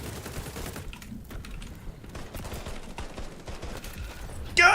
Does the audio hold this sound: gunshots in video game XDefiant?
yes